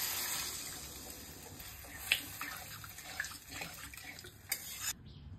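Water poured into a pan of frying potatoes in a Bengali fish and taro curry gives a soft, steady splashing hiss with a few sharper clinks and pops, quiet and close, ending abruptly.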